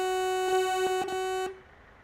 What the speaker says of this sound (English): Oh, and let's hear the horn.